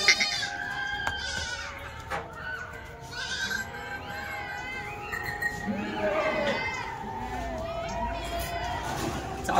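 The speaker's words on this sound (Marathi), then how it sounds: "हे बघा शेळी." Kathewadi goats bleat several times at a livestock sale, with close, wavering cries spread through the clip while people talk nearby.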